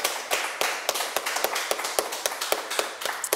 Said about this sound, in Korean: 우리 살아계신 하나님 앞에 우리 감사와 영광의 박수 올려드리겠습니다